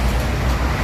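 A Putra Remaja Jetbus 3 coach pulls in close by, its engine rumbling loud and low with steady road noise, no voices over it.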